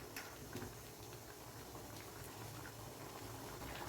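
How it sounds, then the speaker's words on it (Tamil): Snake gourd and lentil kootu boils in a pot, giving a soft, steady bubbling that stays faint and continuous with no one talking. "பாருங்கள், இது நல்லா கொதிக்குது."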